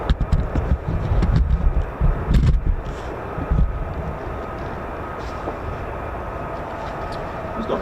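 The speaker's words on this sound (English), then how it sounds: "So that's our F-35A." US Air Force F-35A fighter jet at RAF Lakenheath, a deep roaring rumble with rough bursts that peaks early and then settles into a steady distant drone, with no talk.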